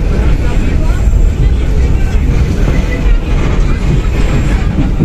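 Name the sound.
Pangrango train running on rails arriving at Cigombong station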